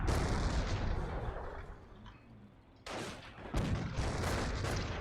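Mortar fire from heights above a beach in a video game: a dense stretch of rumbling booms and crackling blasts, with two sharper impacts standing out near the end, moderately loud and unaccompanied by speech.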